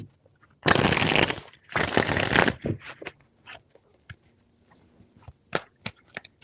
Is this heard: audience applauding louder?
no